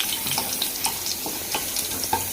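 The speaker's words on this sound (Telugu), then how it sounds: "ఇప్పుడు వంకాయలు వేసుకుందామండి ఇందులో, ఏగినవి ఉన్నమ్మ వంకాయలు వేస్తాను నేను." Eggplant pieces hiss and crackle as they fry in hot oil, a dense, continuous close sizzle with scattered pops and a faint clatter at the end.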